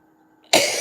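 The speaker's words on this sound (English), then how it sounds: "I don't know why I'm coughing." One sharp cough bursts out after a near-silent moment, close and loud, from someone chatting while coloring.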